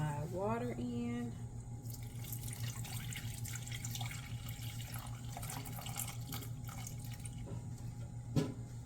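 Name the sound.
pouring water into a pot on the stove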